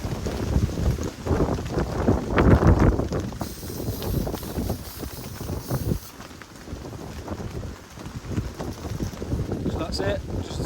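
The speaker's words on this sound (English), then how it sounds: "The wind's wobbling my camera there." Strong wind gusting across a wild camp in the Lake District during severe weather warnings, buffeting the microphone with loud, uneven roaring bursts that swell and ease throughout.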